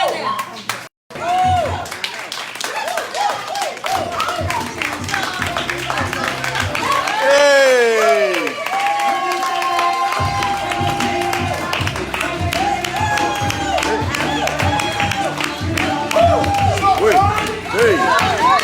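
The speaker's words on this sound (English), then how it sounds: "I need y'all to stand on your feet and begin to clap right" Church conference crowd standing and clapping together, a steady dense wash of applause with some cheering, running under a speaker's voice throughout.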